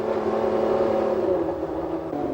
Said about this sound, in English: Waiting and ready are Mansell's mechanics, warming up the engine